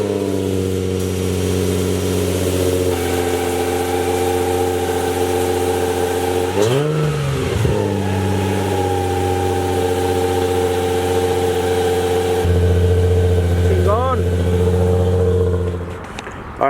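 A Nissan 350Z engine fitted with new test pipes idles with a raspy, loud exhaust, then revs sharply twice with quick rises and falls, settling back to a steady idle before shutting down.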